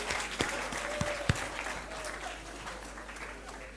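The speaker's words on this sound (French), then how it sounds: "On applaudit très très fort pour lui, s'il vous plaît." An audience at a high school quiz competition applauds loudly and steadily, a dense wash of clapping with a few sharper claps standing out near the start.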